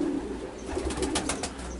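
Racing pigeons coo softly in a loft in Bucharest, Romania, giving low, rolling calls over a steady hum of background noise.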